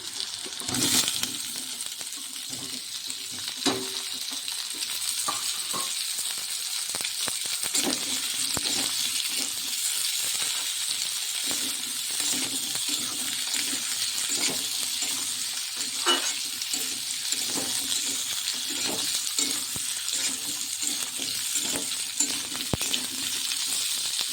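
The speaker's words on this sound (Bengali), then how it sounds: "পেঁয়াজগুলোকে ফ্রাই করে নিয়েছি এখন দিয়ে দেবো হলো আলু কেটে রাখা আলুগুলো দিয়ে দিচ্ছি" Potatoes frying with onions in a pan, a steady soft sizzle broken by scattered clinks and scraping stirs, close up, with no talk.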